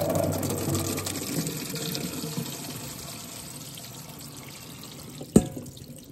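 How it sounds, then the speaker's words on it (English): Water drains from a container of soaked, swollen gel blaster ammo beads, a steady close pour and trickle that fades out, ending with one sharp knock. "Now it's time to drain the water."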